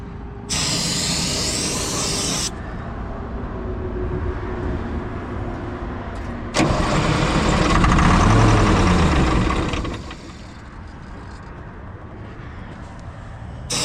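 A two-second burst of aerosol hiss as starting fluid is sprayed, then an engine cranks and rumbles loudly before dropping to a low idle.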